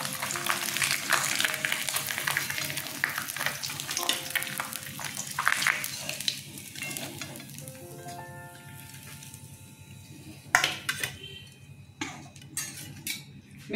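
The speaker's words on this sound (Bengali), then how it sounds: "মেথিটা ফোড়নে দিলাম" Fenugreek seeds sizzle in hot oil for a tempering, a loud close crackling fry joined by scraping utensil and pan clatter, with sharp metallic knocks toward the end.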